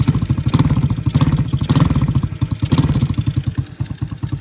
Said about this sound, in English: so this is the exhaust coming out the back